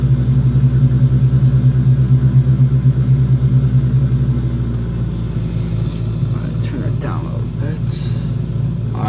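Simulated Cessna 172SP Skyhawk engine running during a taxi in Flight Simulator X, a steady low droning hum that settles slightly halfway through, with brief faint clicks and sweeps toward the end.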